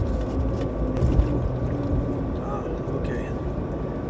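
Car driving along a snowy early-winter road, heard from inside as a low, steady rumble of engine and tyres, with no talking.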